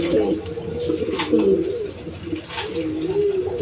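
A male pigeon coos nearby in repeated rolling, throaty phrases, fairly loud and close.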